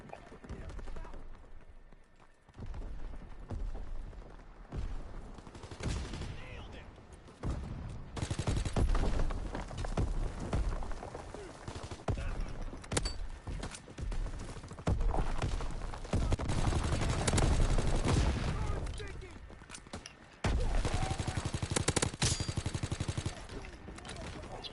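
Rapid gunfire from a BAR and other weapons on the Shipment map in Call of Duty WW2: loud, dense bursts and long automatic volleys, with short quiet gaps between engagements.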